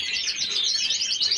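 Small caged birds chirp densely and continuously, a bright overlapping twitter close by, no voices present.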